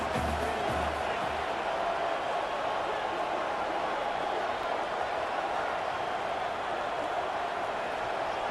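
Stadium crowd in EA College Football 25 roaring during a big third-down play, a steady dense wall of cheering that holds loud and even throughout, with no voices standing out.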